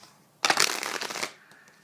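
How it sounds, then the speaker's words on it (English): Tarot cards are given a single quick riffle shuffle up close, a dense burst of fluttering card snaps lasting under a second, followed by a couple of soft taps as the deck settles. "One more shuffle."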